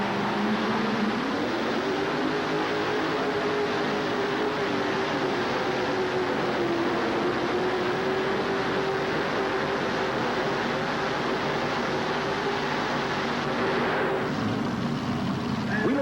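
A pulling tractor powered by two Donovan engines, OUTCAST 2, roars at a Louisville, Kentucky pulling event, a loud steady drone that wavers slightly in pitch before dropping off near the end, with an announcer talking over it.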